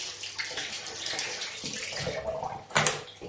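Water from a tap runs steadily while a razor is rinsed during shaving, a continuous splashing wash with a brief louder gush near the end.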